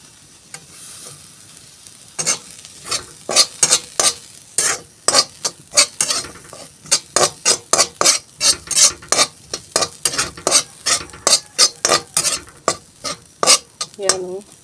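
Spinach palya frying in a pan, stirred with a spoon in a steady run of sharp scraping strokes over a soft sizzle, close and fairly loud with no voices.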